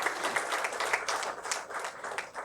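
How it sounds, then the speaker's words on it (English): Audience round of applause at a Sunday spiritual talk, a moderately sized crowd clapping briskly with some individual claps audible, tapering slightly toward the end. "So give a round of applause for your own self also."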